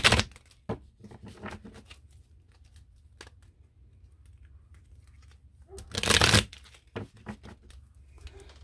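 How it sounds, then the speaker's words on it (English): Lovers Oracle cards are handled and shuffled in a quiet room: scattered soft riffles and flicks, then a louder, dense burst of shuffling late on, close to the listener. "I just want to pull a couple of these Lovers Oracle cards to finish out"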